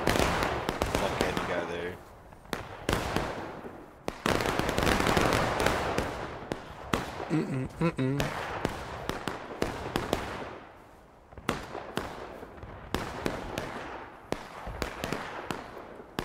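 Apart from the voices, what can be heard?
musket volley gunfire in War of Rights video game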